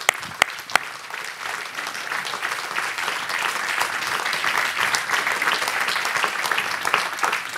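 An audience at a French hospital federation charter signing applauds Daniel: a few sharp early claps swell into sustained, dense clapping from a roomful of people that holds steady throughout.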